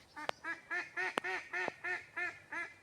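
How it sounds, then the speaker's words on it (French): Ducks quacking close by, a rapid rhythmic series of about ten nasal quacks in a row, clear and loud with nothing else heard. "tu t'approches des canards, ils ont peur"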